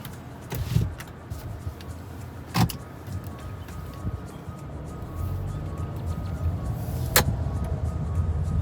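A car setting off on a drive, heard from inside the cabin: a low, steady engine and road rumble with a few sharp clicks and thumps, no one talking.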